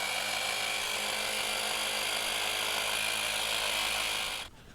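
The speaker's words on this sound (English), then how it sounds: "Turn on my pump." An electric pump runs steadily and loudly, a dense continuous whir inflating a fat bike tire liner on a RadRover, cutting off abruptly near the end.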